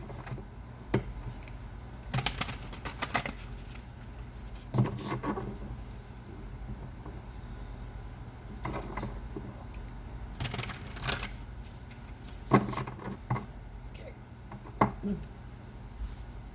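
An Enchanted Blossoms oracle card deck being shuffled, with irregular bursts of crisp riffling and card flicks recurring every couple of seconds against a soft background hiss.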